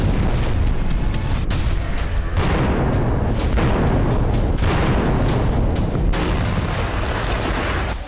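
Israeli air force strikes on residential areas in Gaza: a dense, continuous roar of heavy blasts and rumbling booms, loud and sustained, with sharper impacts breaking through the wash of noise.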